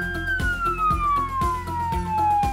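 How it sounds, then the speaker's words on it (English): A 100-watt single-tone police siren wails in one continuous, slowly falling sweep, loud and close, over a low rhythmic pulsing background, with no talking. "purchase a 100-watt single-tone siren"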